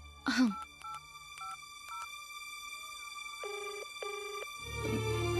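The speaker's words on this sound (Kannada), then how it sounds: "ರಿಂಗ್ ಆಗ್ತಾ ಇದೆ." A telephone is dialed, with a few short keypad tones, followed by repeated ringback tones in a quiet room, two long double-pulsed rings under faint background sound.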